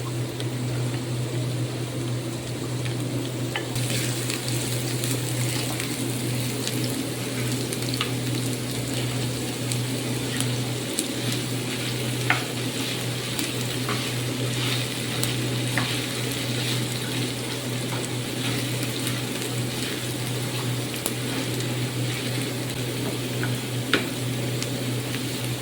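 Onions sautéing in a pan for ground beef: a low, steady frying hiss continues under a constant hum, broken by occasional faint clicks and scrapes of stirring, with no speech.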